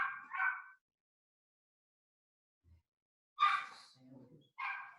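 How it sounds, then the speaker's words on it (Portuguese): A small dog barks a few sharp times at a distance, short yips separated by silence, with a brief low whimper-like sound between them. "Um cachorrinho latindo ali,"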